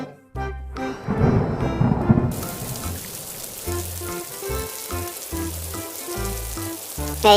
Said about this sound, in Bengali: এই সময় আবার বৃষ্টি এলো কোথা থেকে?